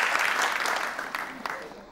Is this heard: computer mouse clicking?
no